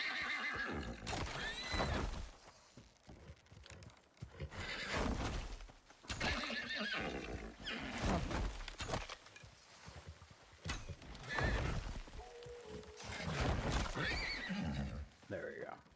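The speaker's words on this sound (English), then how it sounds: "Do have a horse here at the base." Horse in a harsh survival video game, neighing and whinnying several times with clip-clopping hooves in bursts across the clip, loud and near, with someone talking over much of it.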